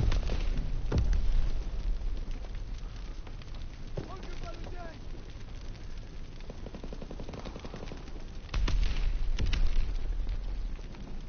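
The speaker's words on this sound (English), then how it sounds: "Mortar shot out." Gunfire and heavy blasts sound in a Call of Duty WW2 online match, with sharp booming impacts near the start and end and scattered shots between, under game radio chatter.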